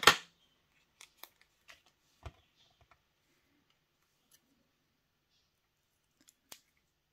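Scissors snip through a sheet of 3D craft foam for card making, a handful of sharp, isolated clicks and cuts spaced across a quiet room, with one louder snap at the start.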